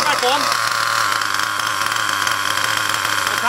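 An Ansmann Virus 2.0 RC car with a BigBlock nitro engine runs during break-in, giving a loud, steady, buzzing drone with no pauses, close to the microphone.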